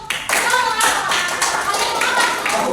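A group claps in an uneven, lively burst during a classroom microteaching session, steady and close by, with some voices faintly audible underneath.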